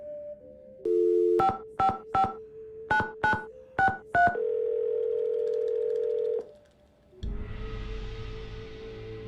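In a Nancy Drew video game, a telephone handset gives a steady dial tone, then a run of eight crisp touch-tone dialing beeps in quick groups, followed by a long flat tone, a brief gap and a hissing line.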